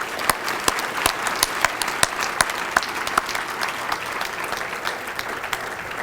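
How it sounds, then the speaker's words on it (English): Audience applause for platinum partner companies at an environmental awards event, a steady wash of many hands clapping with sharp individual claps standing out, sustained throughout without talk. "So let's give them a big round of applause."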